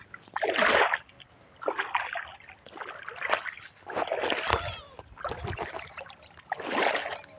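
Repeated bursts of splashing and sloshing water, like wading or paddling through it, coming in uneven surges with short quieter gaps between.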